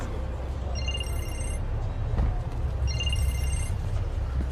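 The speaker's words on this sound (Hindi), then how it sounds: "फोन आ रहा है तुम्हारा।" A phone rings in repeated bursts of bright electronic trills, two rings separated by a pause, over a muffled room hum with no speech.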